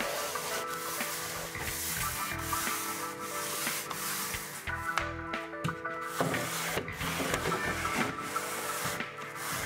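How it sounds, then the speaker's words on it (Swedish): Hand sanding of wood on a staircase being prepared for paint, a steady close scratchy rubbing that repeats in short back-and-forth strokes throughout, with no talk. "Sen slipar du för att få en yta som färgen fäster bättre på."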